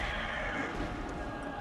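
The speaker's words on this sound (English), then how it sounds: "I wonder how they made the shrieky noises" Shrill, strained shrieking from an enemy in the dark action game Bloodborne, sustained and dense across the whole moment, loud and close with no talking over it.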